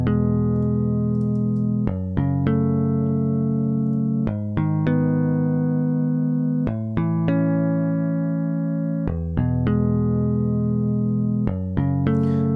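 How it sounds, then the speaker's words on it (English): A synthesized guitar patch from Omnisphere plays a slow melody of plucked, ringing notes with a rich harmonic tone, each one sustaining before the next, with no talk over it. "this is a cool harmonic sound."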